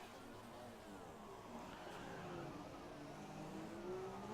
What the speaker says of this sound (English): That's Smash here in the McLaren